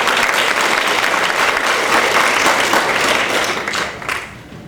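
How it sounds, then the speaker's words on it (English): Applause from the audience at a school PTA meeting, a thick, even wash of clapping that holds steady for several seconds before tapering off at the end. "round of applause for him"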